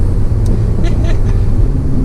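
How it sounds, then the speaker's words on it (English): A 2020 Toyota GR Supra 3.0 in sport mode gives a steady, loud, low exhaust drone that stays even from start to finish as the car drives. "You can hear that exhaust."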